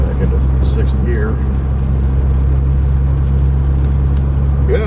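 A car driving along the road, shifting into sixth gear, gives a steady, close engine drone with continuous road rumble and no clear break or rise in revs.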